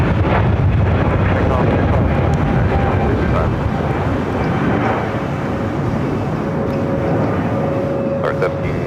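A Flores airliner going around at LAX after debris was reported on the runway, its engines a loud, steady broadband roar throughout, buffeted by wind on the microphone.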